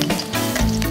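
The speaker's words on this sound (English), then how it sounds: "I love the sound of sizzling mapani worms." Battered mopane worms sizzle loudly in hot oil, a close, steady crackling fry with bursts of popping and no talking.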